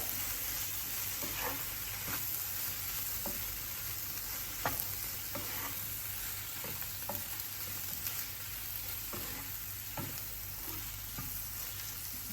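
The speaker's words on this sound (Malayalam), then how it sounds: "കുറച്ച് കറിവേപ്പിലയും കൂടി ഇട്ട് ആവശ്യത്തിന് ഉപ്പും കൂടി ഇട്ട് നന്നായി ഒന്ന് ഇളക്കുക" Okra masala with curry leaves and salt stirred in a hot pan, a continuous soft sizzle broken by light, evenly spaced scrapes and taps of the spoon.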